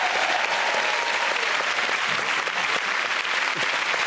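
A studio audience at a comedy panel show bursts into loud, dense applause that holds steady throughout, with some cheering mixed into the crowd noise.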